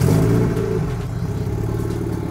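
A car engine, the build centred on its gearbox and transfer case, starts with a loud close roar that settles into a rough, steady idle with a mechanical rumble.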